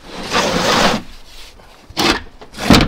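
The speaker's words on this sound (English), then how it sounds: "Then what we'll do is flip the whole sheet over." A large drilled wood sheet is flipped over, giving a loud, close scraping rub of wood across a surface, followed by two shorter shuffling scrapes and bumps as it settles.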